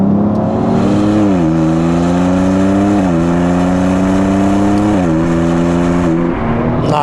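A BMW X3 M Competition in Sport Plus mode accelerates hard through the gears in a loud, steady engine pull. Its note climbs, then drops at each of three quick upshifts before climbing again.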